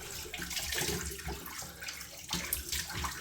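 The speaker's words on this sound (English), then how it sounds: "So I'm going to use cold water now to rinse it." Cold tap water runs steadily while someone rinses their face at a sink, a close continuous splashing and gushing with small surges as hands break the stream.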